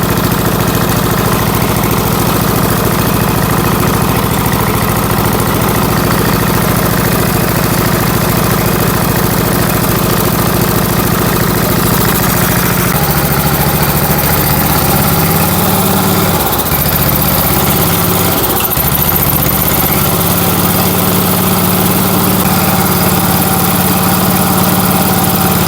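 A 1970 Allis Chalmers B 208 tractor engine, run again after sitting fifteen years, idles loudly and steadily close by, a rough continuous drone that shifts lower partway through with a couple of brief stumbles.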